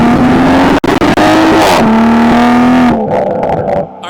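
Toyota Supra with a full AWE exhaust and catted downpipe revving hard nearby, a loud sustained engine roar climbing in pitch through two or three rev pulls with brief gaps, then dropping back toward idle.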